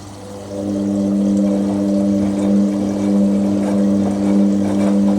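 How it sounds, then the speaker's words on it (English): A Hotpoint WD64 Aquarius washer-dryer fills with cold water as a steady rushing flow. It runs over a constant low machine hum with a droning tone and stays loud and even throughout. "Nice cold water going in there."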